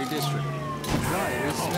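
A police car siren wails in the open-world crime game Mafia III, a rising and falling electronic tone mixed with car engine noise and game sounds, fairly loud throughout.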